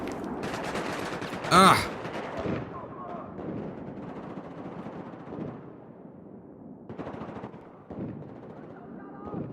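Gunfire from a gun in Battlefield 4 bursts loudly at close range in one sharp volley early on, then lighter shots and game noise carry on beneath a voice, including a brief exclamation.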